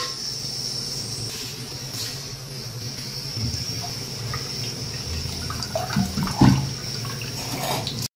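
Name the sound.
water boiling in a pot on the stove for rice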